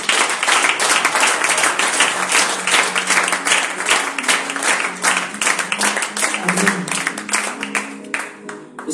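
A church congregation claps and cheers loudly and continuously through a worship service, dense applause filling the room with a low hum of voices beneath, fading slightly near the end.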